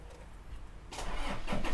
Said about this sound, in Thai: ตาร์เครื่องยนต์นิ่มๆ